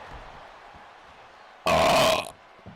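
A single loud, drawn-out burp during a wrestling event stream, lasting about half a second and rising sharply above a quiet background.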